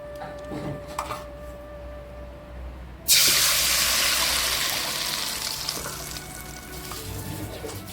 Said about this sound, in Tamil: கரைச்சி வச்ச கோதுமை மாவை ஊற்றிக்கலாம்